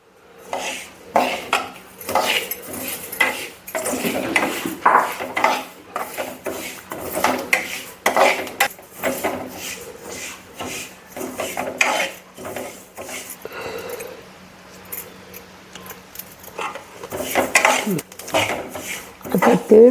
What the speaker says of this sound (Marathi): आता मी काळे तीळ गरम करून भाजून चांगले घेणार आहोत